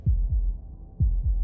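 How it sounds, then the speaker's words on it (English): A heartbeat thumps in low, muffled double beats, two pairs of pulses close and steady, alone. "That was the sound of a heartbeat,"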